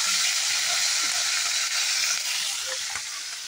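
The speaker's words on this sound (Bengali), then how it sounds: "আর এদিকে দেখো মাছটা এখন ভাজা করছে" Fish frying in a pan in a village kitchen, a loud, dense, continuous hissing sizzle that stays close and even for the whole stretch, easing off slightly at the end.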